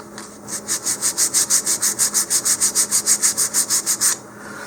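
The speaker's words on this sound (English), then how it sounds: "and just sand the surface, take off some of that soot." Fine-grit sandpaper is rubbed over a laser-cut wooden part for a model rocket, making about twenty quick, even back-and-forth scratching strokes, close and loud, starting and stopping cleanly with no talk.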